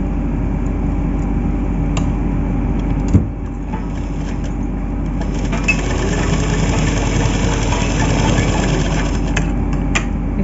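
A sewing machine stitches a bordered blouse, running as a steady, close mechanical drone with a continuous whirring hum and a brief knock near the start, and no speech over it.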